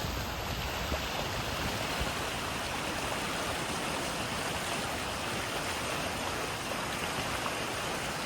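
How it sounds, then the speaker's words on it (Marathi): Waghur river water flowing steadily through green forest near the Ajanta Caves, a soft continuous broadband rush like a stream or small waterfall, even and unbroken, with no voices. "ही वाघोड नदी आहे"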